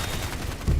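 Sentry guns firing in the video game Evolve, a short loud burst of rapid gunfire with heavy low rumble.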